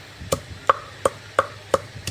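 Plant roots are pounded and crushed on a grinding surface, six sharp knocks falling at an even steady rhythm, close and distinct with no voices.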